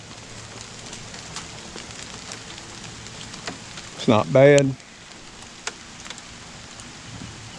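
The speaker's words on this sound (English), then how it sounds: "Rain's starting to pick up a little bit." Steady rain patters under a big oak tree, a soft, even hiss that runs throughout, with someone briefly speaking close by partway through.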